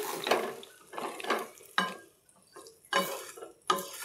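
Curry stirred in a pan right after water is added, a series of wet scraping strokes with watery sloshing and a soft metallic clatter, coming in separate bursts about every second.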